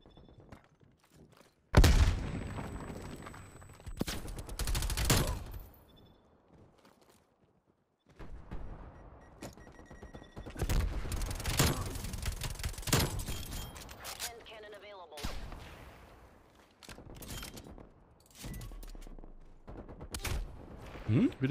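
Sniper rifle shots in the video game Black Ops Cold War come as sharp, separate cracks spread through the stretch, with someone talking excitedly over the gameplay.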